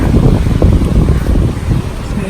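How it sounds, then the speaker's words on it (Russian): Strong wind and rough ocean on the Florida coast during Hurricane Michael: a loud, continuous roar of gusts and surf buffeting the microphone, with no clear breaks. "Ветер, неспокойный океан"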